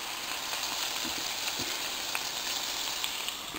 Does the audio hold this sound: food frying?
yes